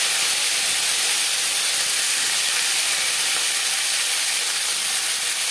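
Dry red chillies and panch phoron frying in hot oil for broccoli khichuri, giving a loud, steady, broadband sizzle that holds unchanged throughout with no talking.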